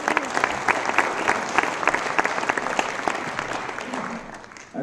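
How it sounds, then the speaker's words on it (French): An audience at a public debate on bringing Europe closer to its regions breaks into sustained applause, crisp individual claps over a steady roar that fades near the end. "je vous propose pour les encourager de tous les applaudir."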